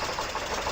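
Truck engine in the off-road driving game SpinTires, a steady loud mechanical drone with a knocking, chattering texture, continuous and unbroken throughout the short stretch.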